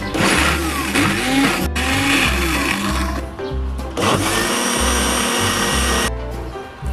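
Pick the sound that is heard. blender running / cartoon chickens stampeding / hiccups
blender running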